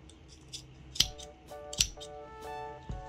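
Scissors cut through amigurumi doll fabric in several close, crisp snips spaced irregularly, each a short bright clack, with a quiet hum in the background and no talking.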